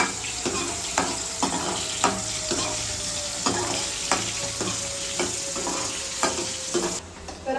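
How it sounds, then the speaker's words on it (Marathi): Curry leaves and tomato sautéing in hot oil for a Malvani fish curry give a steady sizzle, broken by regular scraping stirs of a spoon against the pan roughly every half second. "तर आपण आहे ना कढीपत्ता आणि एक जो टोमॅटो आहे तो आपण टाकून घेणार याच्यामध्ये, आणि छान असं आपण परतून घेऊया तेलावरती"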